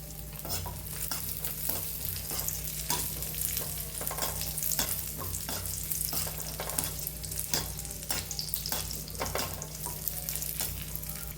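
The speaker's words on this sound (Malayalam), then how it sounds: "ഇനി നമുക്ക് മുന്തിരി കൂടി ഇട്ട് കൊടുക്കാം" Cashews and raisins fry in ghee for carrot payasam, a steady close sizzle running throughout with repeated scraping strokes of a stirring spoon and no talking.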